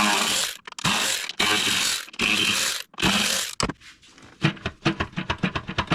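A ratchet loosening 8mm intake manifold bolts on a 2017-2024 Chrysler Pacifica, close and loud, with long rapid clicking runs that give way to short, separate clicks as a bolt comes free.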